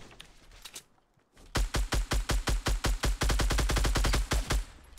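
Rapid Fortnite gunfire starts after a brief quiet, a dense run of sharp, evenly spaced shots that swell into near-continuous automatic bursts, loud and close, with no talk over it.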